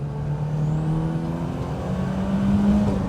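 A BMW 2002 Turbo's engine revs steadily while driving, a loud continuous drone with a rising pitch, no voices over it.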